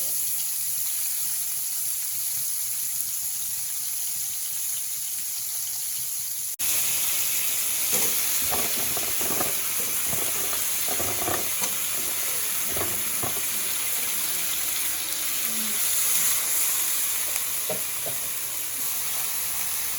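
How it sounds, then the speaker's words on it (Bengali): Potatoes and eggplant frying in hot oil in a pan, a steady broad sizzle that swells louder after a few seconds, with scattered stirring clinks and crackles, close up. "আলু আর বেগুন আগে ভেজে নিচ্ছি"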